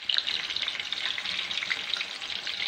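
Chicken keema kababs frying on low flame in a kadai, a soft steady sizzle with fine popping crackles, evenly sustained and close, with no voices.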